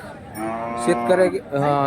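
Buffalo lowing at a large buffalo market in Hirapur, a single long, loud, close moo with a wavering tone that swells and holds, no talk over it.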